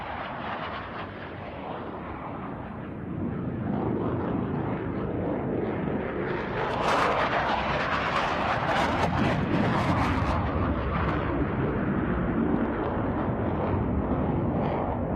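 Aerobatic display jets roar across air show center in a crossing pass, a broad, loud rushing thunder that swells and peaks midway, then holds as a sustained distant rumble.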